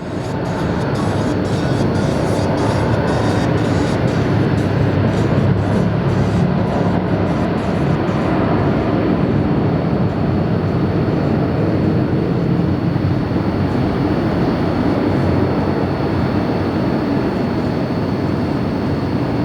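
A jet airliner takes off at LAX, heard from a hotel as a loud steady roar with a broad rumbling hiss that holds throughout.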